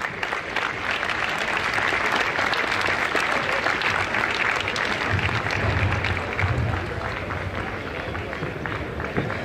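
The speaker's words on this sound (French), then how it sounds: "on peut les applaudir très fortement" A crowd at a harbour sailing regatta applauds the boats with loud, continuous, dense clapping, with voices mixed into the sound throughout.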